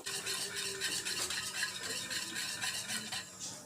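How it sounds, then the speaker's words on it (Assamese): Curd (yogurt) being whisked in a bowl for Assamese raita, a quick, even train of soft, wet beating strokes that carries on steadily throughout with no voices. "এই যিখিনি মোৰ দৈ আছে দৈখিনি মই প্ৰথমতে ফেটি লৈছো"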